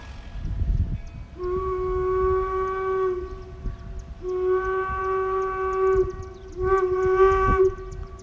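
A steam locomotive whistle on the Northern Central Railway blows three long, loud chords in succession, with brief gaps between blasts and a low rumble underneath.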